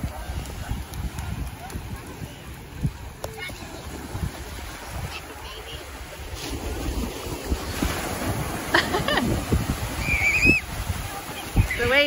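Ocean waves breaking at a beach as a broad, rushing wash mixed with wind buffeting the microphone, with people talking over it.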